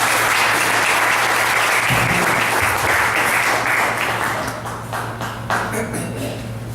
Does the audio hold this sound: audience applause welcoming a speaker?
yes